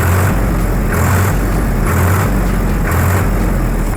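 A Swaraj 744FE tractor's engine, just repaired after losing power, runs loud and close in a steady diesel rumble with rhythmic surges roughly once a second. No one talks.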